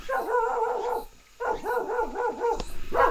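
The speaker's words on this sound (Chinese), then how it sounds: "但是感覺怎麼有狗汪汪呢？" A dog barks repeatedly in short, loud bursts near an abandoned Qing dynasty mansion, with a brief pause midway before the barking resumes, along with whimpering yips.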